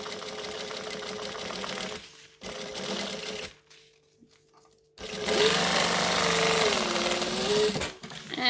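A sewing machine stitches a bag gusset in two bursts, running steadily for about two seconds, pausing, then a longer close, loud run of rapid stitching with a brief stop before restarting.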